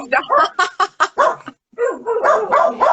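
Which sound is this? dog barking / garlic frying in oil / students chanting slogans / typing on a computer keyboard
dog barking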